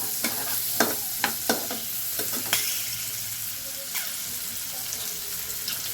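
Cut, washed green beans tossed and stirred in a hot pan, a steady sizzle with several sharp spatula scrapes and clacks near the start, then frying quietly on its own.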